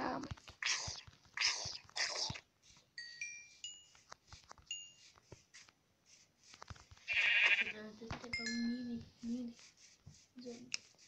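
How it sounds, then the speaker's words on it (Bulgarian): Whispered speech with scattered clicks, then a few short Minecraft sheep bleats break through midway, with quieter bleats trailing off afterward. "Първата ни жертва ще бъде овцата."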